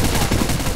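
A short, loud, dense burst of rapid machine gun fire in a shooting video game, continuous and without gaps.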